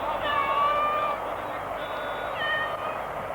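A house cat named Minou gives two drawn-out meows, the first longer and the second shorter, heard indoors under a steady hum from a televised France–Poland football match.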